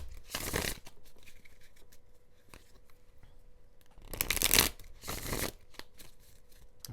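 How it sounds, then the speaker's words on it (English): A deck of tarot cards is shuffled up close in a few brisk riffling bursts: one near the start, then two more after a quiet pause with faint handling noises between them. No one talks. "one more shuffle"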